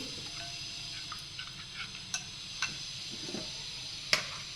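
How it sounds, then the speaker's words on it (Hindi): Atta churma for laddoo is mixed by hand in a bowl, giving soft scattered scraping with several sharp ticks as a spoon knocks the bowl's rim and side, over a quiet background. "इसको हम अच्छी तरीके से ऐसे मिक्स कर लेंगे"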